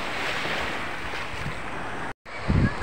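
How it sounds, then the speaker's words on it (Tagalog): Sea waves wash along the beach near Samal Island in the late afternoon, a steady broad roar of surf mixed with gusting wind noise on the microphone, cutting out for a moment before a louder rush returns. "dito tayo sa tabi ng dagat"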